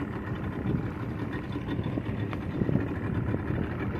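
A speedboat running fast on the water between Pangkep and Makassar, its engine giving a steady, close, low roar mixed with wind buffeting and water noise throughout.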